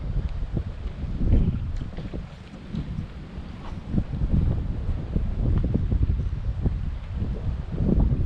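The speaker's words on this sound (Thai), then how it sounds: "บรรยากาศลมโชยโชย" Breeze blowing through a mangrove forest at Ban Kalong in Samut Sakhon, a steady low rushing with wind buffeting the microphone in gusts, no talking.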